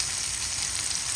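Garlic, ginger and onion sizzle steadily in a hot pan for vegetable stir-fry, a soft, even frying hiss with no talking.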